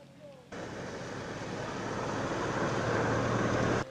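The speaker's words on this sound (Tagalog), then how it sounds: "Rumagasa mula sa kabundukan ang tubig bunsod ng walang tigil na pagulan." Floodwater from nonstop heavy rain in Cagayan rushes down from the mountains as a loud, continuous roar that swells slightly before cutting off, with a voice speaking over it.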